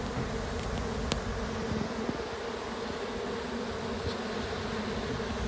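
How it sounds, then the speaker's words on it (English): Honey bees in a queenless swarm hive at a city farm give off a steady, close droning hum with a few brief louder tones. "they're making the noise that they're queenless"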